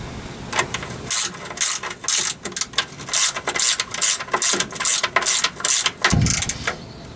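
A hand ratchet tightens 9/16 bolts on a Ford F100 kingpin, giving a run of rapid, close metallic clicks in quick bursts with brief pauses between strokes.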